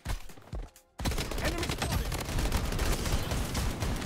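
Rapid bursts of automatic gunfire in the Bloodstrike video game follow a brief pause, then crackle loudly and continuously for several seconds, close and dense.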